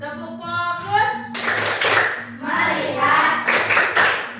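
Children in a classroom clap rhythmically in a chanted clapping game, with bursts of sharp claps between stretches of voices chanting in unison, loud and close.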